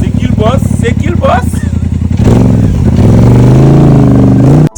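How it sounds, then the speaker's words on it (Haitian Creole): A four-wheel quad modified with snow tracks in place of its wheels revs its engine up close in Canadian snow, a loud continuous rising engine roar running under talk throughout. "Son 4 roues que vous modifiez, vous retirez roues, vous mettez chenille pour le courir dans la neige."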